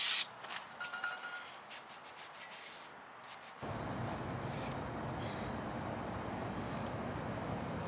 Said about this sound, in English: Clean the wheel hub surface with a wire brush and apply some NICs.